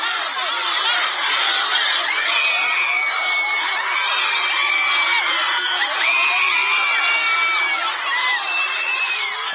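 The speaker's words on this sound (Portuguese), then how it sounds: "Aí tá uma gritaria danada." A large political crowd at a Bolsonaro event in Sergipe, Brazil, shouting and chanting "Lula" in a continuous loud roar of overlapping voices, whoops and cries heard at a distance.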